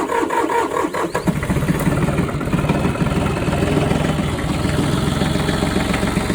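Cold start of a Branson 2515 diesel compact tractor: a short cranking burst catches, then the engine settles into a loud, steady, close idle with an even low chug.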